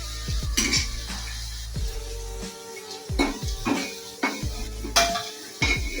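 Fried jackfruit-seed and pointed gourd koftas are lifted from a pan, giving repeated sharp metal clinks and scrapes of a utensil against the cookware over a faint sizzle, close by and irregular, with no voices.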